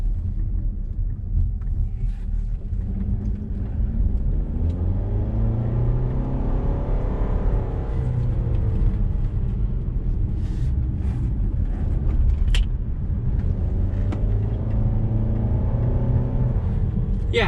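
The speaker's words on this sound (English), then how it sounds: "The engine here can be pretty peppy, but it's not a sporty feel, and that comes probably mainly down to that CVT transmission." A 2019 Nissan Rogue SL AWD with a CVT accelerates in sport mode, a steady engine drone with a gradual rising whine heard from inside the cabin, over constant road rumble.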